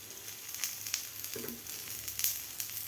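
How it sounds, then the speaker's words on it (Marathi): Soaked colocasia leaves roast on a tawa until crisp, giving a faint, steady, close sizzle with small crackling pops and no talk. "खरपूस होईपर्यंत आपल्याला हे तव्यावर भाजून घ्यायचे आहेत पानं"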